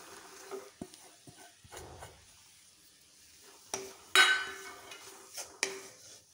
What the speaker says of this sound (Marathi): आता आपण ही चपाती टाकून घेऊया